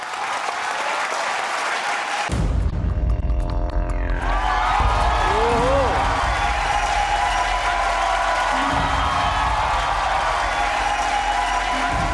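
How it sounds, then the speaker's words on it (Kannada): Studio audience on a Kannada TV game show bursts into loud, sustained applause for a contestant named Ramappa, with scattered cheering in a big hall, the clapping dipping briefly and swelling again before continuing steadily to the end. "ರಾಮಪ್ಪ ಅವ್ರಿಗೆ ಒಂದು ದೊಡ್ಡ ಚಪ್ಪಾಳೆ ಪ್ಲೀಸ್."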